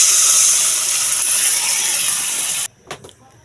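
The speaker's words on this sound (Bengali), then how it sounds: "এবার ঝোলের জলটা দিয়ে দিলাম।" Water for the curry pours into a hot pan of tangra fish and cauliflower, a loud, steady sizzling hiss that stops abruptly near the end, followed by a couple of faint clinks.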